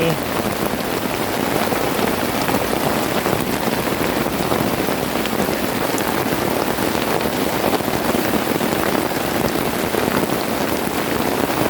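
Steady heavy rain pours at night over a jungle camp in the southern border forest, with a dense, unbroken hiss of drops splashing on surfaces close by and no pause throughout.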